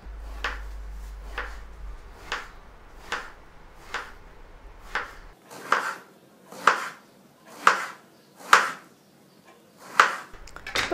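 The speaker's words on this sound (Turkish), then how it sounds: "Patlıcanı şu şekilde 4 parçaya ayırıp dikdörtgen dilimler yapacağız." A knife cuts eggplant on a board in a steady series of about a dozen crisp chops into thin slices, growing a little louder and sharper toward the end.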